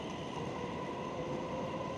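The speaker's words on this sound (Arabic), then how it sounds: "انا حاليا بمحطة القطار" Steady, dense train station ambience in Xiamen, China, with a constant rumble of rail cars and a continuous hum filling the space, with no voices.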